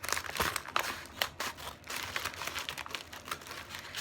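Crinkling plastic and crunchy tearing as a white mailing package is cut open, a steady close rustle of irregular crackles and snips filling the stretch without talk.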